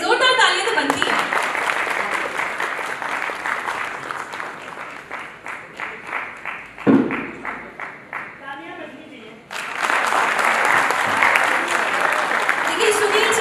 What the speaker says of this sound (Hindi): जोरदार तालियां तो बनती है